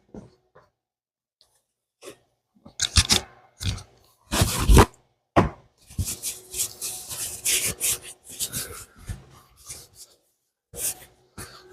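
A rag rubbing and wiping oil off a turbocharged 460 Mustang engine, heard as intermittent close scuffing bursts with pauses of near silence between them.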